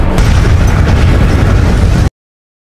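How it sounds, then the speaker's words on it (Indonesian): A warehouse lab blows up in a film scene, a loud sustained blast and roaring rumble that fills the clip before cutting off abruptly. "Multiple reports of an explosion."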